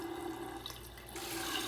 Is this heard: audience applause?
no